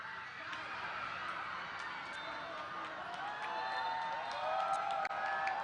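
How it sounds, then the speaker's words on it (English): An animated crowd at a basketball game at Our Lady of Fatima, Valenzuela, keeps up a continuous murmur of cheering and chatter, with scattered claps and a few sharp squeaks, building slightly louder toward the end. "the crowd here at Our Lady of Fatima has become very animated"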